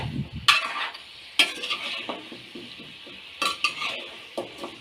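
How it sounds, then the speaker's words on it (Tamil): Moringa drumsticks sautéing in a pan are stirred with a utensil, giving repeated scraping strokes and metallic clinks over a faint sizzle. "நல்லா பரட்டி விட்டு நல்லா வதக்குங்க"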